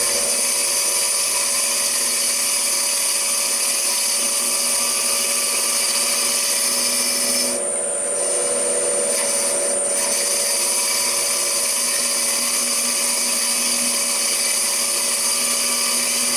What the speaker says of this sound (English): After a few cuts, we make the lateral sweep to eliminate the tool marks.